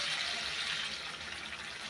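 Dal pours into a pot in a steady liquid rush, close and continuous, with no talk.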